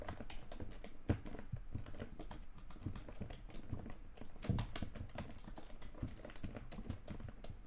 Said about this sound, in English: Sorry, I'm a very slow typer.